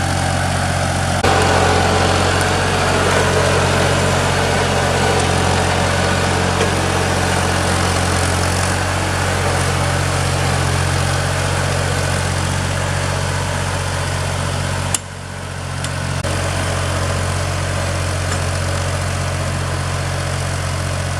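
A Ford 2000 tractor runs steadily while pulling Dearborn plows through a food plot without wheel weights, its low engine drone loud and continuous, with a brief dip near the end before it picks back up.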